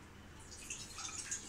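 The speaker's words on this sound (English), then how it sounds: "add water in a pan" Water being added to a pan to make sugar syrup, a faint, soft trickle and light splashing that grows slightly in the second half.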